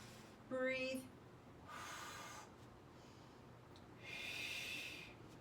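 Breathing during a resistance band workout: a sharp nasal intake, then two long exhales, each separated by quiet pauses, close and soft.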